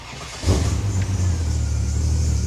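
A turbo Barra-swapped Toyota Land Cruiser 80 engine cranks and catches, then settles into a loud, steady rumbling idle close by with no talk over it.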